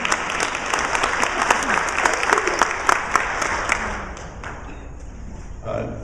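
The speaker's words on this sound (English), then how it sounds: "I think that's a milestone event worthy of some applause." Applause at an annual meeting after a bylaws amendment is adopted: a dense, steady wash of many hands clapping for about four seconds, then thinning out and fading, with a few scattered claps and a murmur at the end.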